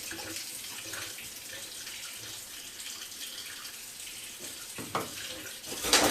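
Lukewarm water runs from a kitchen tap for pizza dough, a steady faint hiss for about six seconds with a couple of small clinks near the end.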